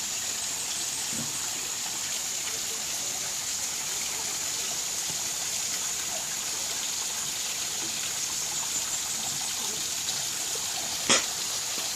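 A shallow outdoor stream gives a steady, close hiss of flowing water that holds an even level throughout. A brief sharp click sounds near the end, and there are no voices.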